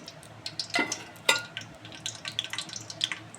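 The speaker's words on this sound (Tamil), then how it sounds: "வானலில் எண்ணெயை ஊற்றிட்டு வச்சுருக்கோம்ல கடலப்பருப்பு உளுத்தம் பருப்பு இதை போட்டுக்கிறோம்." Chana dal and urad dal dropped into hot oil in a pan sizzle and crackle, with scattered sharp pops and a soft hiss under them, close by and fairly quiet.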